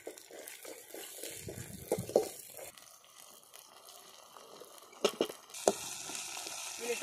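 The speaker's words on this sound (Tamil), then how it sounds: "தக்காளி கொஞ்ச நேரம் வதங்கணும்." Tomatoes sauté in a pan with turmeric for a horse gram chutney, making a soft, steady sizzle broken by a few louder stirring clinks and scrapes.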